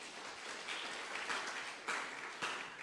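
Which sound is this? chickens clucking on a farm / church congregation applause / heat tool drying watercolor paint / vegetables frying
church congregation applause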